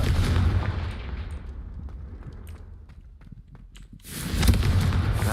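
A loud, broad blast from the Confringo spell in Hogwarts Legacy opens the sequence, fades through a quieter stretch of scattered crackles, then a second heavy explosive burst swells back in and holds.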